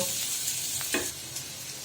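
Chicken stuffing frying in hot oil, a steady close sizzle throughout with a brief stir or shift of the pieces near the middle, no voices.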